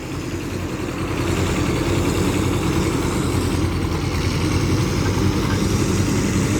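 A Kubota SR-J3 small rice harvester's diesel engine idles steadily nearby, a continuous rough low rumble with no talking.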